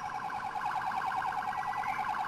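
Police siren in the GTA 4 video game, a fast warbling electronic yelp that cycles steadily throughout at moderate level, with no talk over it.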